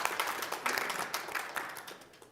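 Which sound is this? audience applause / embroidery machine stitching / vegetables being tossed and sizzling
audience applause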